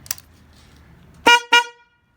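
A HELLA horn fitted to a motorcycle gives two short, loud honks close by, the first slightly longer than the second, after a quiet stretch with a faint click.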